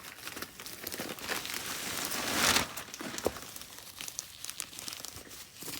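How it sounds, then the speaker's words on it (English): Bubble wrap being pulled off a bedding package crinkles and crackles up close, with one louder burst of crumpling near the middle and softer rustling on either side. "let's remove this bubble wrap"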